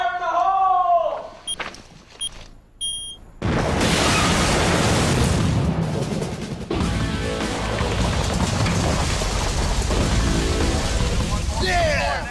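Unexploded ordnance is detonated inside an underground cave in Afghanistan in 2002. A voice comes first, then a deep blast hits and rolls on into a long, rumbling roar with debris.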